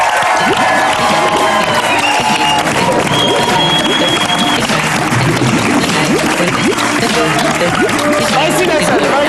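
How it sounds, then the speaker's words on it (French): Loud, sustained applause and cheering from a studio audience greeting TV guest Nelson Montfort, a dense wall of clapping mixed with crowd shouts and voices throughout. "On va prolonger nos applaudissements pour accueillir notre nouvel invité, l'immense, l'inimitable Nelson Montfort"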